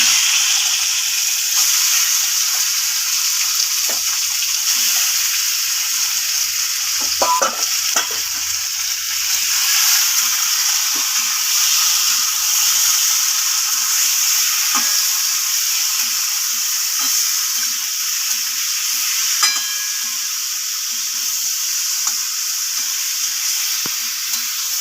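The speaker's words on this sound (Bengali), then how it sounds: "চিকেনটা একটু ভেজে নেব।" Salted, turmeric-coated chicken pieces fry in hot oil in a pan, giving a steady bright sizzle with crackles and soft clinks of stirring throughout, close by with no voices.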